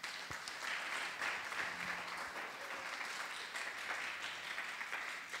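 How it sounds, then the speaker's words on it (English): A church congregation claps together for the Lord after a New Year's message, a dense, steady wash of applause holding fairly even for the whole stretch with no talk over it. "Shall we give the Lord a mighty clap?"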